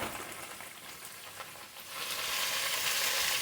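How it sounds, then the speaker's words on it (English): Spinach sautéing in a hot pan for a Southern home-cooked meal gives a steady, close sizzle and hiss that swells louder and fuller partway through, with no voices. "Let's saute that spinach down."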